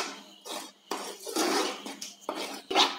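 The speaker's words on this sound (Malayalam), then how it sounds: "ഇത് നമ്മളൊരു സാധാ സ്പൂണോ എന്തെങ്കിലും വെച്ച് ഒന്ന് മിക്സ് ചെയ്യണം." A plain spoon mixing cake batter in a bowl, heard as loud, close scraping and clinking strokes against the bowl in quick repeated bursts, with no talk.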